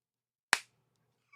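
A single sharp hand clap, made to sync a recording, cracks out once close and loud in an otherwise silent room, decaying quickly.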